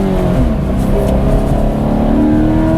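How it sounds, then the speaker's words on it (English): A 2020 Toyota 86 boxer flat-four engine and exhaust, paired with a six-speed manual and rear drive, hums loudly and steadily with a warbling, layered drone and a slight rise in pitch, with no talking. "the engine does have a really good noise here. It's got that interesting boxer flat 4 kind of warble going on"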